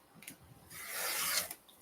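Clipboard folio material trimmed off at a lined-up corner: a steady rasping cut swells for under a second, close and moderately loud, with a few light scrapes and taps before and after.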